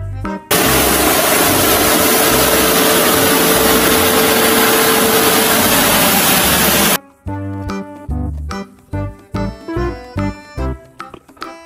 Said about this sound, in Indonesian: Mobil pembersih jalan.